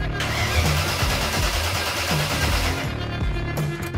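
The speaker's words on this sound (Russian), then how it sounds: "мотор дыркает, но не запускается" A BMW E30 drift car engine cranks repeatedly with a rhythmic, labored churning that never catches, loud and close, with no voices.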